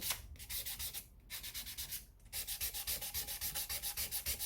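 Stainless steel guitar frets on a Gretsch rubbed down with 220-grit sandpaper in quick, steady back-and-forth strokes, loud and close, with two short pauses between bursts and no talking.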